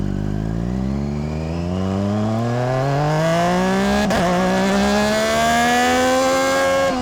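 A Triumph Daytona 675 laps a race track at Mac Park, its engine rising steadily through the revs in one long loud pull, with a brief shift blip midway before climbing again.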